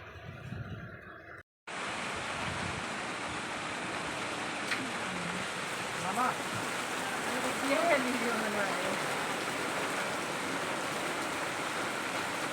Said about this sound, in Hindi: मुझे बारिश बहुत अच्छा लगता है।